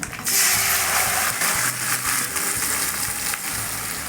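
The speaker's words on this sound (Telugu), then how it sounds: "ఈ చిట్టపట అన్నప్పుడు కరివేపాకు బాగా వేసి" Curry leaves crackle and sizzle in hot oil as a tempering for capsicum buttermilk curry (mor kuzhambu), a dense, close, steady frying hiss with quick popping spatters over about four seconds.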